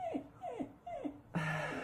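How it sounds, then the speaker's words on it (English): A dog whimpers in four short, falling whines, evenly spaced and close, fairly quiet, with faint room noise and no talk. "And my dog agrees with you."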